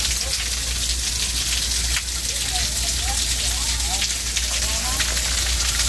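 Sudden rain shower on Malapascua Island in Cebu, Philippines: a steady, dense patter and hiss of rain runs unbroken through the whole stretch, fairly close and loud, with faint birdlike chirps and a hint of voices underneath.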